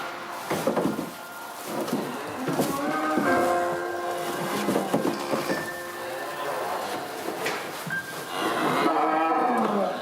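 Cattle on a working Frisian dairy farm moo repeatedly in long, loud, tonal calls, several animals overlapping near and far amid barn clatter and background noise.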